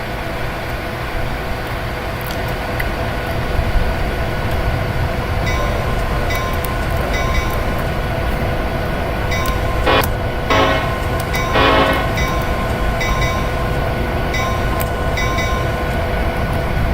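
Union Pacific 3985 steam locomotive rolls downhill from a summit on Tehachapi Pass in the Open Rails train simulator, a loud continuous rumble of wheels and train with brief metallic clanks partway through, no voices.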